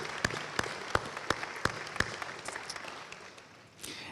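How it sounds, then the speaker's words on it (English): Audience applause at a Department of Defense award announcement involving the Alamo Colleges district: sparse, fairly quiet clapping with a few distinct sharp claps standing out, fading after a few seconds. "Let's give them a round of applause."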